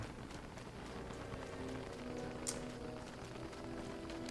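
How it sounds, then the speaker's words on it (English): Rain falling in the game Don't Starve: Reign of Giants, during spring: a faint, steady hiss and patter that continues evenly throughout. "The rain, again, quite bad, usually is."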